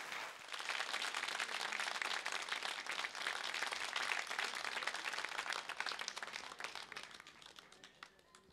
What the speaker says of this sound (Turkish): O güzel alkışlarınızla Nermin Akdemir.